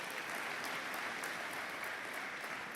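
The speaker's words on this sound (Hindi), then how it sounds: "एक बार जोरदार तालियां हम पोदार जी के लिए बजाएं।" A gathering applauds loudly for Podar ji, international president of a Dharma Chetna Manch, a dense, sustained burst of many hands clapping evenly across the whole stretch, without voices on top.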